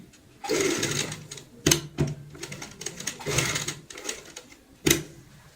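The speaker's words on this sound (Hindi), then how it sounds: "जिप के ऊपर आएगी हमारी सिलाई" Sewing machine stitching over the zip of a heart-shaped cushion cover, running in several short bursts of rapid stitching with brief pauses and sharp clicks between them, close and clear.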